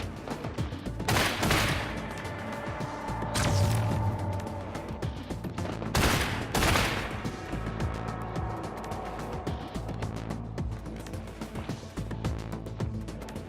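Repeated bursts of enemy gunfire in a video game, with loud volleys near the start, around the middle and again later, set over a steady layer of game music and ambience.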